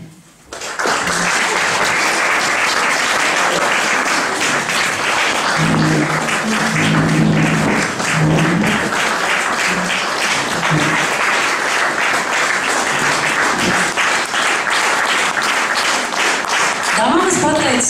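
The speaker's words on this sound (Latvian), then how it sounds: "pateicis par kopā būšanas laiku arī Lolijai, bet ar tik skaļiem aplausiem, lai viņa Rīgā sadzird" Audience applause at a live event, a loud, dense wall of clapping from a large crowd that holds steady for the full stretch, with brief voices mixed in.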